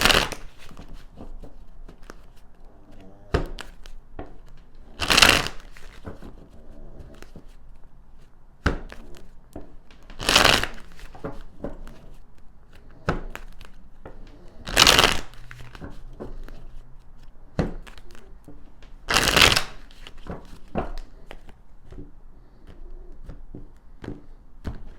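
A deck of tarot cards is shuffled up close in a quiet room. Sharp riffling bursts come about every five seconds, with soft taps and card handling between them.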